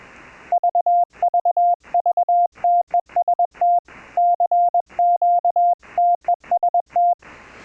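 Morse code CW tones from a software iambic keyer in mode B: a clean, loud, steady-pitched beep keyed into rapid dots and dashes in irregular bursts, with short silences between characters.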